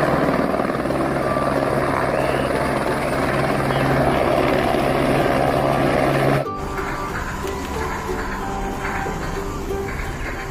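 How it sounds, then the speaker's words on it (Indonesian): A helicopter running close by, loud steady rotor and engine drone with a constant low hum, abruptly dropping in level partway through as the sound changes and continues more faintly. "Ada helikopter."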